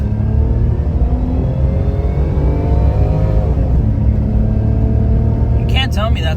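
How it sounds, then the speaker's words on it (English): A small kei car's three-cylinder carbureted engine accelerates hard from a stop, its note climbing steadily for a few seconds and then dropping back to a lower drone, loud and close throughout. "You can't tell me that's not peppy for a little 3-cylinder carbureted motor."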